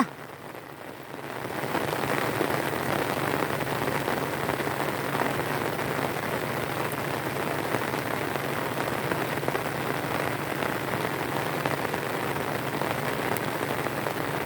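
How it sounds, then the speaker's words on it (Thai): Heavy tropical rain pours down steadily in Thailand, a dense, loud hiss of drops hitting surfaces that swells after the first moments and holds constant. "ฝนเทลงมา"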